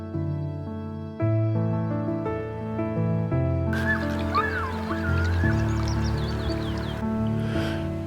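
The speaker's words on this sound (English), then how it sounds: "In Scotland, we were regularly hearing the call of the loon." A wavering, eerie great northern diver (loon) wail rises and falls over a sustained musical drone, the call drifting in and out at moderate distance in western Scotland.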